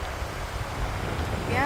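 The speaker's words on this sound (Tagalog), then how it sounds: "Ang lakas nga lang ng hangin." Strong wind sweeps across St. Albans Lake in Vermont, a steady low roar buffeting the microphone throughout, with a brief high call rising near the end.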